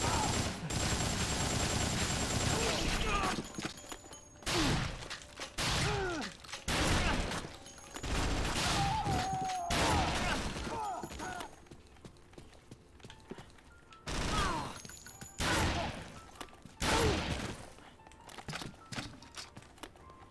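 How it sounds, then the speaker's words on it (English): Bursts of assault rifle fire in the zombie video game Dead Rising, repeated loud broadband volleys separated by quieter gaps over game ambience, with a little talk. "you started blasting with an AR"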